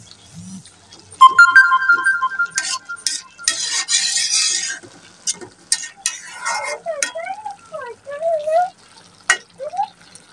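Malabar spinach cooked with hilsa and potatoes gets stirred in a pan, giving bursts of scraping and clattering, with a ringing electronic tone and some background noise between the moves.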